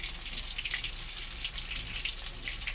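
A whole milkfish sizzles in hot oil, a continuous crackling hiss with small popping spatters, steady and close throughout, with no talk.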